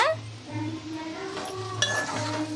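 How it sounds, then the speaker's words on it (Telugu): Food is stirred in a cooking pan with a metal spoon, giving light clinks and scrapes against the pan, close and intermittent over a faint background hum. "ఇలా కలుపుకుంటూ ఉండాలండి"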